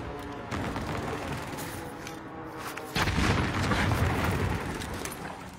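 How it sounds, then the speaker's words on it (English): Precision airstrike explosions in a video game make a dense, continuous roar of rumbling blasts, with a sharper, louder wave of impacts hitting about halfway through. "Allied precision airstrike incoming."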